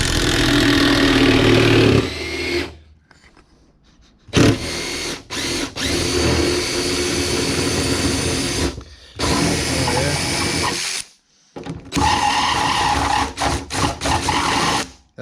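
A power tool spins hard against rusted wiper screws on a Suzuki Alto Works CN21S, giving loud bursts of whirring drive broken by short pauses, with someone talking briefly.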